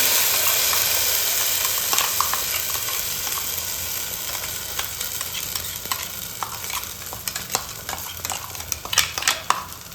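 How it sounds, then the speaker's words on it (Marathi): Mutton masala fries in oil while a spoon stirs it around the pan. A steady sizzle fades slightly as scraping strokes grow more frequent toward the end. "आपला इकडं मसाला फ्राय होतोय"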